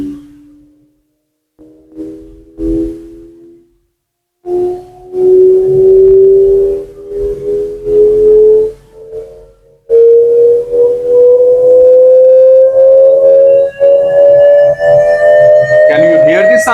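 A pure test tone rises steadily in pitch across a physics lesson on sound, starting with a few short steady notes and then one long continuous upward glide, loud and up front.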